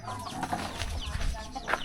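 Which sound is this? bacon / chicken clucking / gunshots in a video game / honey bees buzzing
chicken clucking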